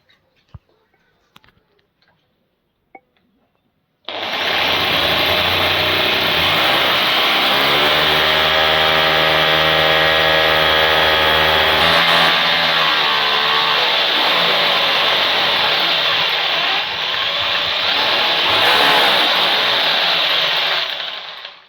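An electric drill boring into a kitchen wall, a loud continuous whine that starts abruptly after a few faint taps and runs steadily for about seventeen seconds, shifting pitch slightly as it bites.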